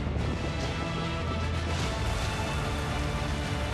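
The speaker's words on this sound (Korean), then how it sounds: "세차게 비가 쏟아집니다." Heavy rain pours down steadily in a coastal village, a dense, continuous hiss and roar with no breaks, loud and close throughout, with no voices heard.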